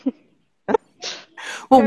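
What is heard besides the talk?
baby sneezing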